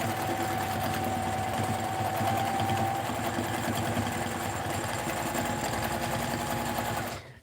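A sewing machine doing free-motion quilting with rulers runs continuously with a fast, even mechanical whir and needle patter, close and steady for about seven seconds before stopping.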